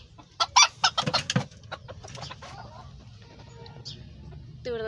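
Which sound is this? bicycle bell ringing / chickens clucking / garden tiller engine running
chickens clucking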